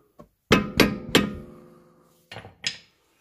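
A steering ball joint is tapped loose on an Audi A8: five sharp metallic hammer knocks, three close together, then a pause and two more, each ringing briefly in an otherwise quiet workshop.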